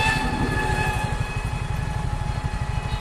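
A train runs along a railway line beside a traditional village market, producing a steady, loud rhythmic rumble and clatter of wheels that fills the whole stretch, with no one talking.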